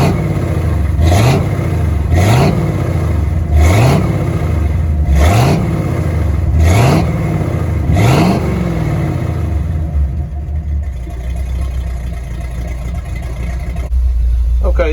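A 1970 Ford F100 truck engine revs up six times in a steady rhythm, each rev rising and falling as it pulls away, then settles into a loud, close, continuous low rumble with no talk.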